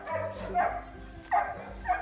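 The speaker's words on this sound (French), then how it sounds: "Et là, c'est le dernier chien." A dog in a kennel barks and yips in short bursts, with three clear yelps close by and whimpering, echoing sounds between them.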